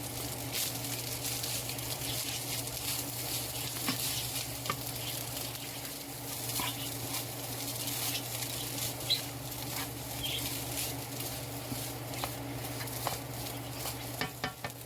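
Ham and chicken fried rice is stirred in a hot pan, with a continuous close sizzle broken by scraping stirs and light taps of the utensil, no talking.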